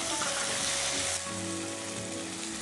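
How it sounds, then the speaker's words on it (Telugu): Tomato pieces hit a hot pan with ginger, giving a broad, steady sizzle that drops slightly partway through and continues evenly, without talk. "అల్లం తర్వాత టమాటో ముక్కలు వేస్తాం"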